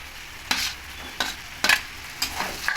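Pointed gourd being stirred and fried with turmeric and ground spice paste, several sharp spatula scrapes against the pan over a soft continuous sizzle, close and without speech.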